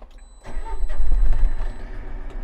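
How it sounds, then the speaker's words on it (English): A JCB 413K wheel loader fitted with a Trombia sweeper starts up, a brief cranking followed by a deep diesel engine catching and rumbling into a steady idle, heard up close. "So let's turn on the machine."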